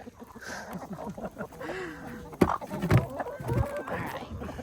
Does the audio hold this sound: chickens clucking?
yes